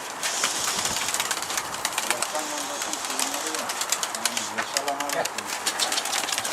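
A pigeon coos in a few soft low rolling calls amid steady outdoor noise, with voices talking over it.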